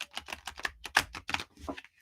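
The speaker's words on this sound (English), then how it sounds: "So, Kay, one more shuffle for you, and then we'll go into drawing your cards." A deck of tarot or playing cards is shuffled close up, giving a quick run of crisp riffling clicks and flutters that stop abruptly, with no voices over it.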